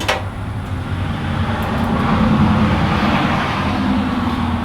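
A 12 valve Cummins diesel engine cranking and catching into a loud, rough, steady rumbling idle, close by and continuous with no voices.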